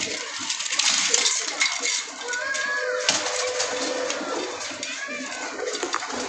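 Pigeons coo softly in short rising calls, with a bit of nearby clatter and a voice speaking faintly.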